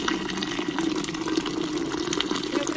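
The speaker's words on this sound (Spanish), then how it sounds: "Voy a echarle el agua." Water pours into a pot for a Mexican seafood soup, a steady, close splashing gush that runs continuously without a break.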